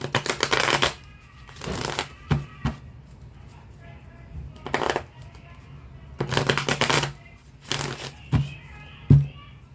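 Tarot cards being shuffled in the hands, several quick riffling bursts of crisp card flutter, close and fairly loud, separated by quieter pauses with small taps and card handling in between.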